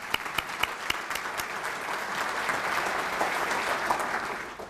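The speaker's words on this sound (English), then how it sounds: "Please give a round of applause for all of our sponsors for today." A few sharp, separate claps open, then an event audience at a council for quality growth joins into thick, sustained applause for the sponsors, holding steady to the end.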